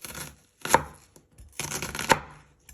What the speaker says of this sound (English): you just want to chop it into pieces like that